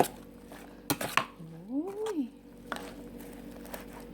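Rice noodle salad with spring onion and herbs is tossed in a bowl, giving a few close clinks and a soft wet squish over a couple of seconds in a quiet kitchen.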